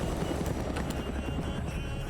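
A helicopter in the video game Arma 3 gives a steady, dense rotor rumble with a faint rhythmic chop that continues unbroken throughout at moderate level.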